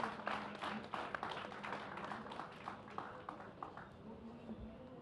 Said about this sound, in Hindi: इस पर तो ज़ोरदार तालियां होनी चाहिए